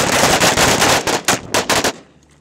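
Rapid rifle and machine gun fire on a Marine Corps range during combat marksmanship training, a loud dense burst of overlapping shots that breaks into a few separate reports before stopping abruptly into quiet.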